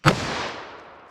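A single .44 Magnum gunshot fired into a fabric and MDF gel block, one sharp loud blast followed by a long rolling echo that slowly fades over about a second, with no voices.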